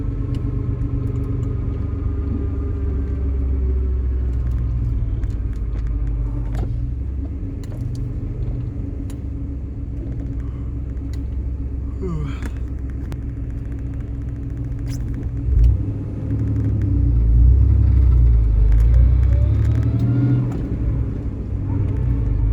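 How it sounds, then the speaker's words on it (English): An old 35-year-old OBS Chevy truck drives along with steady low engine and road rumble and a faint transmission whine over it, louder near the end, with no talk. "you're going to be able to hear the transmission noise"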